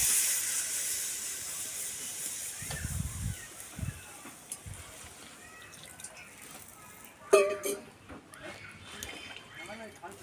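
Water poured into a hot pan of chicken curry after the ginger masala is fried, giving a loud hissing burst at the start that fades into quieter bubbling, with speech and light kitchen clatter later.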